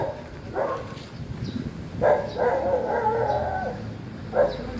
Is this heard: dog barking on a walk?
yes